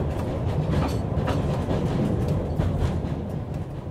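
Train riding on rails, a continuous loud rumbling roar with faint rhythmic clatter throughout, with no talking.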